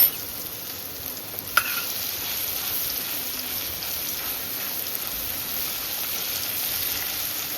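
Garlic sizzles and fries in hot oil at the start of an oily kankoda (spiny gourd) sabji, a steady, close crackling hiss that carries on evenly without a break, with a single sharp tap early on.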